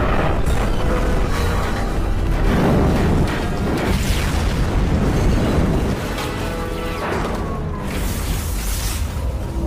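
Heavy booming explosion from a rocket striking a container ship in an action film, a loud rumbling roar with crashing debris that stays dense and powerful throughout, with no voices.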